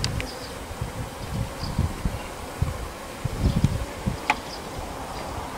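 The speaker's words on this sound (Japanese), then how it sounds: "さあ、この壁のミツバチ中に入ってくれるとありがたいんですが、なかなか簡単には入らないような気がします。" A swarm of honeybees clustered on a wall during spring swarming hums steadily as a dense, continuous buzz, with low rustling thumps and occasional nearer bees passing close.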